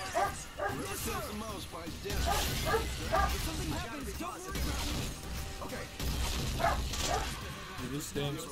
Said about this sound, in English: One of the dogs barking.